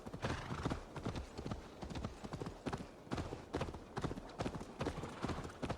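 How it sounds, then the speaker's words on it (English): A horse gallops in Assassin's Creed Valhalla with a rapid, steady clip-clop of hooves. The hoofbeats run continuously at a moderate, even level, with no talk over them. "you'll see that here as we move pretty quickly on the horse"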